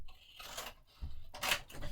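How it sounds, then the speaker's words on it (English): Long-blade scissors cut through paper during a mini album craft project, a couple of soft crisp snipping and sliding strokes, close but fairly quiet. "So I'm going to go ahead and do that with my long blade scissors."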